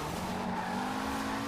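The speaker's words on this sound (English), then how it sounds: "Looks like a party bus to me." A party bus driving in the video game Forza Horizon 4, its engine droning steadily with a faint tire squeal, heard quietly and continuously throughout.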